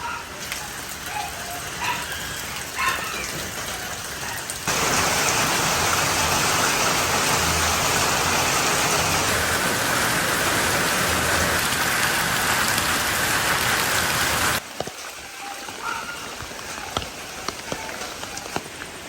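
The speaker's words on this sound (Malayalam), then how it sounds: "അങ്ങനെയാണ് നമ്മളിവിടെ മഴ പെയ്തുകൊണ്ടിരിക്കുന്നത്" Rain falls throughout, swelling midway into a loud, dense downpour roar before easing back to lighter patter with distinct drips.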